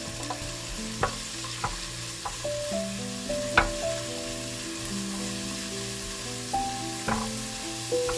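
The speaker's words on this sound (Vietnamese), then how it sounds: "Phi cho hành tỏi nó thơm lên" Gentle sizzling of garlic and shallots frying in hot oil, with occasional clinks and stirring sounds from a utensil against the pan.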